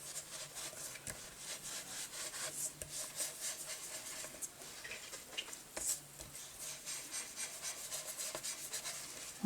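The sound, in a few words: inking paper edges with Vintage Photo ink for junk journal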